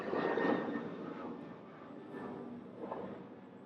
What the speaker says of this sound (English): besides big airplanes flying overhead